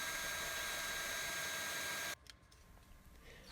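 A power drill whirs steadily while repairing rust on the rear quarter panel of a 2004-2008 Acura TSX, then cuts off abruptly, leaving faint handling noises.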